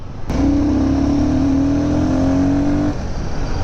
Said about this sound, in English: What engine note, what engine note.